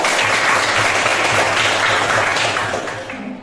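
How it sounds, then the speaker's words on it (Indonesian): Classroom audience applauding a student discussion group, a dense sustained wash of many hands clapping together for about three seconds, fading slightly at the end. "kita berikan aplaus dulu kepada kelompok A yang sudah membacakan hasil diskusinya"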